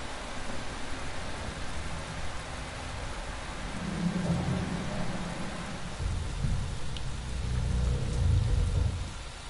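Steady rain with low rumbling thunder in The Last of Us video game, a continuous wash of downpour that swells louder toward the end, with deep rolls of thunder building underneath.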